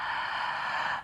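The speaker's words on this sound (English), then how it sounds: "So when we breathe in with open mouth, it sounds like this." A single slow yoga-style ujjayi inhale drawn through an open mouth from the back of the throat, a soft breathy hiss lasting about a second, close and steady, alone.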